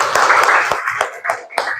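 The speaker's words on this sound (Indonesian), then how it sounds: "Tepuk tangannya dulu dong." Children clapping hands in a primary school classroom, a short burst of sharp claps with uneven rhythm, close and loud, with a few distinct slaps standing out near the end.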